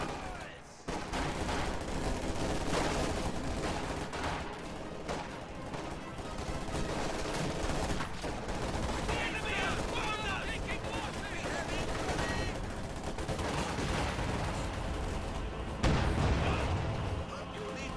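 Machine gun fire and other battle sounds in the Company of Heroes strategy game, with dense bursts of rattling gunfire, artillery and explosions layered continuously, while someone talks over it throughout.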